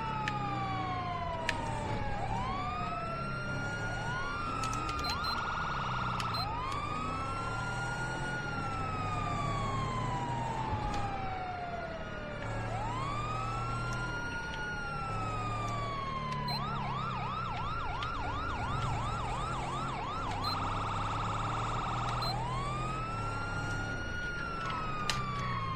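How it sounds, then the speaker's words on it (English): A police car siren in a video game wails continuously and loudly, its rising and falling sweeps alternating with faster yelping bursts, over a low engine rumble. "Okay, stolen police car,"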